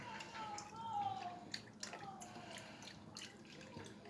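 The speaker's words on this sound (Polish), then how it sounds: "Wlewam, wlewam mleko. Już, już nalewam mleka." Milk poured into a container makes a soft, steady liquid trickle, with a couple of brief clinks midway.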